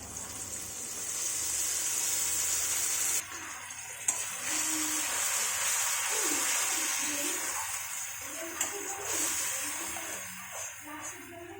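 Chilli, ginger and garlic paste with spices fries for a country chicken curry, a close, continuous hiss and sizzle broken by a short pause and a few clanks of stirring.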